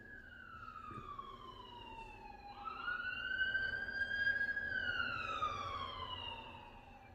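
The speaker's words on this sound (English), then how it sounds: "whenever I hear a siren, I say a little prayer in my head" An emergency siren wails outside, its pitch sweeping up and then down as it passes, moderately distant and steady over low background hum.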